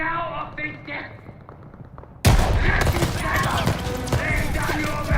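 Gunfire in the Call of Duty Vanguard campaign erupts suddenly after a quieter stretch of voices, becoming a loud, dense barrage of rapid shots that continues to the end.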